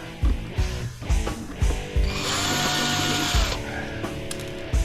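A battery-powered tool whirs and ratchets in short repeated bursts, then runs steadily for a moment, as it is used to open up scrap dental equipment containing a copper motor, brass and aluminum.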